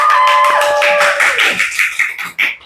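A small group clapping at the opening of a school podcast about SMP Negeri 238 Jakarta, steady close handclaps that thin out near the end, with a tonal hum underneath at first.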